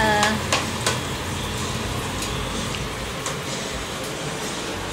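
Food sautéing in a pan gives a steady, close sizzle, with a few sharp stirring clinks near the start.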